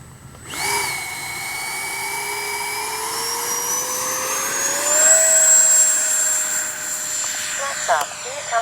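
A Freewing 80mm MiG-21 RC jet takes off on its maiden flight. Its turbine whine rises and climbs in pitch as it accelerates away, loud and sustained, with brief talk near the end.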